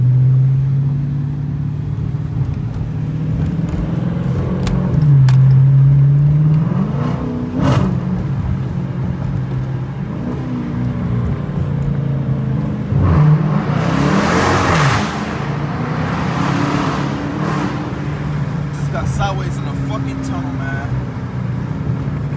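A Dodge Challenger R/T accelerates on a freeway at dawn, its engine giving a loud, rumbling rev that swells and eases under a wash of road and wind noise, with someone talking over it.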